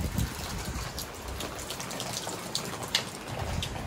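Rain falls on an open concrete rooftop on the fourth floor of a house under construction, a steady hissing patter with a few sharper drops standing out, fairly close and continuous with no voices.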